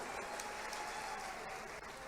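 A political rally crowd applauds steadily, dense sustained clapping from a large audience filling the space without a break.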